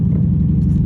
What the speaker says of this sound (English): Look, here's a little scat pack in front of us.